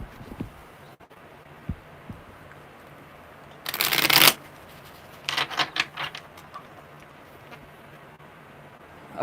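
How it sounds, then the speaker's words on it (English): Tarot cards shuffled in one loud riffle burst lasting about half a second, followed by a few softer ruffling flutters against a quiet room hum, up close and without speech. "Okay, one more good shuffle"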